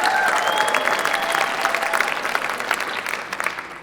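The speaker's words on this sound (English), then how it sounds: "Let's give them a round of applause." Loud applause from a school talent-show audience honoring staff volunteers, dense clapping with a few shouts and whistles, gradually tapering toward the end.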